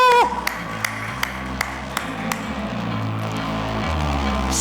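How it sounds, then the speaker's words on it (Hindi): At the Mirzapur 3 trailer launch, an audience welcomes actresses Rasika Dugal and Shweta Tripathi Sharma on stage: crisp rhythmic claps over music, then a swelling burst of crowd applause. "जोरदार तालियों के साथ स्वागत कीजिए मंच पर"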